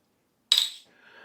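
SawStop table saw bypass keys give a single bright metallic clink close up, ringing briefly before a faint rustle of handling follows.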